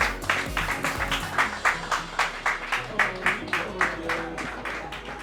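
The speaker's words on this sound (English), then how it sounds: "A round of applause, please" Rhythmic applause at a Nigerian entertainment awards ceremony, the crowd clapping in a steady regular beat for an Artist of the Year winner, with music or low crowd noise underneath.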